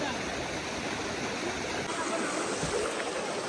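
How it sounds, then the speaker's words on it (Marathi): Rushing water from a small waterfall stream on a monsoon trek at Garbett Plateau keeps up a steady, dense roar through the whole stretch, close and loud. "ते इथे मस्त छोटा वॉटरफॉल आहे, तिथे लोक एन्जॉय करतात आहे."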